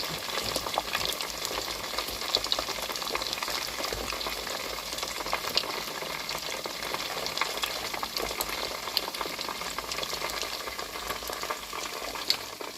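Chicken fries in hot oil with a dense, continuous sputter and constant popping crackles, loud and close for the whole stretch.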